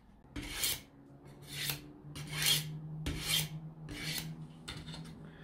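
A knife blade rasps on a Work Sharp sharpener in five or six separate gritty strokes, each about half a second long, close and fairly quiet over a faint steady hum.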